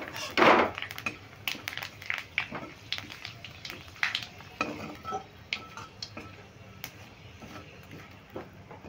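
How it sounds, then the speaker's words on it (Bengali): Light sizzling of whole spices frying in a pan for a jackfruit and paneer curry, mixed with scraping and clinks from stirring, in short irregular bursts, with quiet speech at times. "এবার ফোড়নটা খুব ভালো করে নেড়ে ভেজে নেব।"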